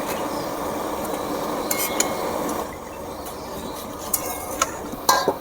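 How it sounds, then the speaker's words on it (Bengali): Fried soya chunks and vegetables are lifted from a frying pan with a metal utensil: a soft scraping stir under a faint sizzle, then several sharp clinks against the pan near the end, with no talking. "ভাজা হয়ে গেছে এবার আমি তুলে নেব"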